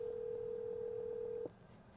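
A telephone placing a call gives a single steady electronic tone that holds for about a second and a half and then cuts off abruptly, leaving faint background noise.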